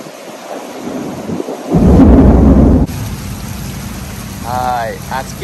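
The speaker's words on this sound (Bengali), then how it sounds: "আজকে বৃষ্টি হচ্ছে আবার" Heavy rain pours steadily while a loud, close thunder rumble rolls for about a second, then the downpour continues with a brief voice heard near the end.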